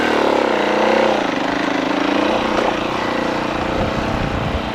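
A Husqvarna FE 501 motorcycle engine runs steadily up close, a continuous mid-pitched drone with slight rises and dips in revs and no voices.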